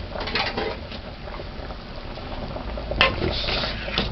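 A pot of Jamaican red peas soup boils steadily on a stove at medium-low heat, giving a continuous bubbling hiss with a brief clink of a pot or utensil about three seconds in.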